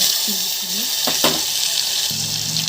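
Crushed black pepper, cashews and ginger sizzle in hot oil with mustard seeds, cumin and chana dal for a Telugu katte pongali tempering, a steady close frying hiss with a few clinks and stirring scrapes.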